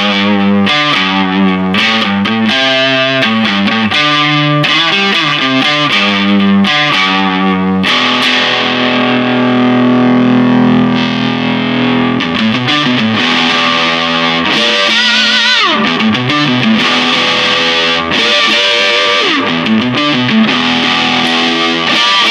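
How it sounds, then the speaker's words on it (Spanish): An electric guitar plays through a cheap amplifier's built-in distortion into an expensive speaker, with chopped chords, then sustained ringing notes and busy riffs, loud and continuous. "vamos a ver cómo suena con distorsión"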